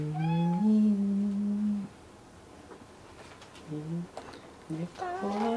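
A young kitten gives several loud, drawn-out meows close up, a long cry at the start and shorter ones near the end, with quiet gaps between.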